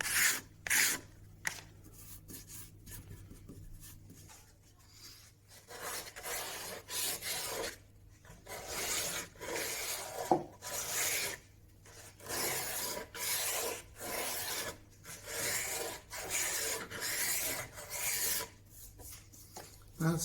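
Edges of a stained glass frame being sanded by hand in repeated back-and-forth strokes, a gritty rasping that comes in regular bursts with short pauses, close to the microphone and with no talking.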